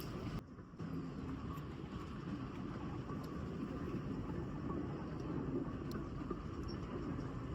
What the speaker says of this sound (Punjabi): ਪੂਰੇ 7:05 ਮਿੰਟ ਤੇ ਇਹ ਟ੍ਰੇਨ ਆ ਜਿਹੜੀ ਚੱਲੀ ਆ